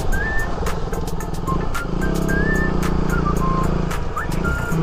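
A motorcycle rides along a mountain road toward Khecheopalri Lake in West Sikkim, a steady loud engine drone and wind rush held close throughout, with a few higher tonal squeaks and clicks over the noise.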